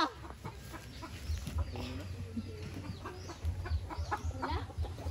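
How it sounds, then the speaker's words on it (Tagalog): Chickens in a coop cluck repeatedly at close range, with soft scattered calls over a low, steady background hum. "Kasi nasa manukan."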